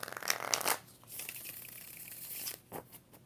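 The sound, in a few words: shuffling Alice in Wonderland tarot cards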